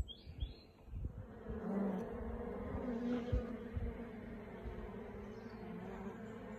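Honeybees hum and buzz inside a polynuc hive box, a close, steady drone with occasional nearer wingbeats passing by the microphone, and no voices.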